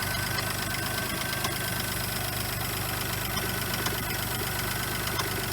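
A worn Geo Metro engine idles with an abnormal noise, a loud continuous mechanical clatter and a rapid rhythmic knock over the low running hum.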